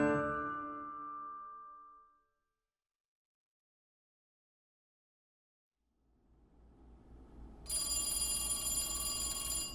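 An old landline telephone bell in a home in 1971 rings out near the end, a bright sustained metallic trill that follows a fading earlier tone and a stretch of silence with low rumble.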